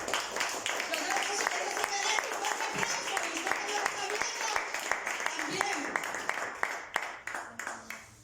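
Congregation applauding during a church sermon, a steady crowd clapping that runs throughout at moderate level, with a preacher's voice and scattered shouts mixed over it.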